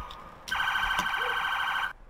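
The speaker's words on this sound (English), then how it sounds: "Then used sirens to get their attention." A loud, steady electronic police car siren tone blares for about a second and a half, then cuts off abruptly, with no voices around it.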